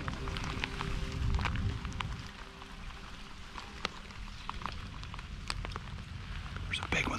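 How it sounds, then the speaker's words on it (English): Heavy monsoon rain pours down steadily outdoors, a dense hiss with scattered drips and taps, while a low hum runs under it early on. "It's been pouring down rain."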